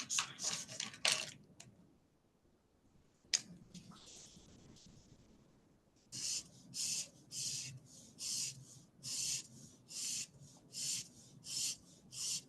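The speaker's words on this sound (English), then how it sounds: "To distinguish the surfaces, I am shading it." Pencil shading a 3D perspective sketch of a cuboid on paper: a few scratchy strokes, a pause, then a steady run of about a dozen even, rhythmic rubbing strokes, close and clear.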